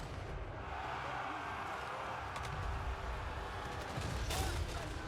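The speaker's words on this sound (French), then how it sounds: "Les canons faisaient rage toujours." Cannons roar in an epic fantasy video game battle as Chaos forces assault an Imperial fort, a dense continuous wash of booming fire and rumble with no clear breaks.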